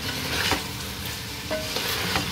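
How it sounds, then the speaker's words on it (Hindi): Masala for chicken harisa roasting and being stirred in a pan: a steady close sizzle with quick scraping strokes of the spoon every half second or so, loud and continuous without talk. "जब तक ये मसाले अच्छे से पक ना जाए, उस वक्त तक आपको इसे भूनना है।"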